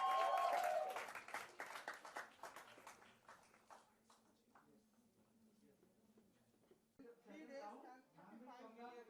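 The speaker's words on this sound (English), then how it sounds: "Big round of applause, come on." An audience breaks into applause at a promotional event for a single, the clapping loud at first and then thinning into scattered claps before speech resumes.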